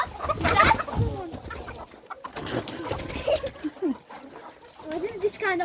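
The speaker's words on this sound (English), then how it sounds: "What is this kind of chicken?" Farm chickens cluck in short, scattered bursts at close range amid outdoor noise, with people talking over and between the calls.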